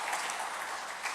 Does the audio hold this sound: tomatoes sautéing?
no